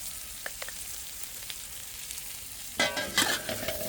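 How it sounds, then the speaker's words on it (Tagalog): Ginataang gulay with salt and seasoning being stirred in a frying pan, a soft low sizzle with faint scrapes, then louder clattering stirring strokes near the end. "Haluin natin"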